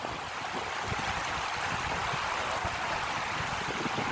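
Clear water from the mountains flows in a stream in Tanay, Rizal, giving a steady, broad rushing wash that fills the whole stretch with no talking.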